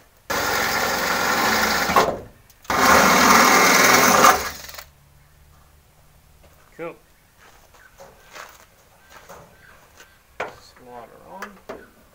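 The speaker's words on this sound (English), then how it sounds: "you want to use that 8 mil drill bit" A power drill with an 8 mm bit whines loudly in two bursts of about two seconds each while fitting a bonnet protector to a Nissan GQ Patrol, followed by quieter handling clatter and faint voices.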